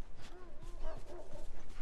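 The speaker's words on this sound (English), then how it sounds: "Holy crap, dogs." Dogs in The Last of Us video game bark and yip faintly in a short, irregular burst beneath quiet game ambience.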